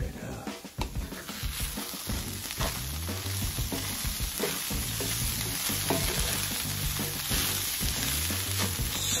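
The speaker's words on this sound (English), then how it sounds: "Stir up the vegan ground crumbles, peanuts, chili, red bell pepper, green onions." Vegan ground crumbles, peanuts, chili, red bell pepper and green onions are stirred in a hot pan, giving a loud continuous sizzle with scraping, shuffling stir strokes close up.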